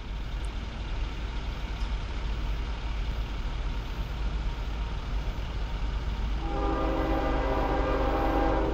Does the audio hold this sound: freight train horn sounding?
yes